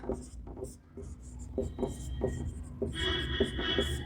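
A pen moves across exam answer paper in short scratchy strokes and taps, close and fairly clear, while a faint tone hums in the background.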